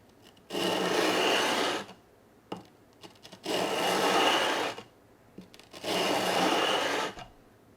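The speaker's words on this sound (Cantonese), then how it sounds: "咁我呢就已經喺呢個 sanding block 上面黐咗呢個220號砂紙" Three long rasping strokes of a 220-grit sanding block levelling stainless steel guitar frets, each about one to two seconds of steady abrasive scraping, close and fairly loud, separated by brief quiet gaps with small knocks.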